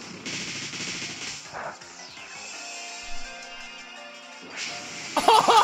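A Bullet Punch attack lands in Pokémon Ultra Sun, a quick burst of metallic impact hits followed by a ringing, fading tone and then another sharp crash near the end, all with no talking.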